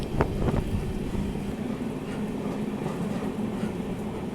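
The 16329 Mangaluru–Nagercoil Amrit Bharat train crosses the Netravati river bridge on the Kerala coastal route, with a low, continuous rumble and rattle mixed with wind buffeting and a few brief knocks near the start.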